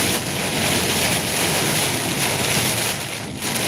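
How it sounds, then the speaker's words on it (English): Strong storm wind buffeting a truck on the road makes a loud, continuous roaring rush that barely lets up, with no voices over it. "I can tell the wind's picking up"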